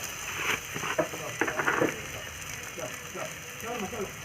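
Spice paste for a prawn malai curry is sautéed in a pan, with a close, uneven clatter of a spoon scraping and stirring over a low frying sizzle.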